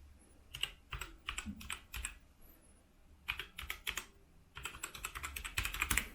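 Keys clatter on a Gamepower Warlock compact gaming keyboard during a sound test, quick close bursts of crisp clicks in three runs separated by short pauses, with no voices.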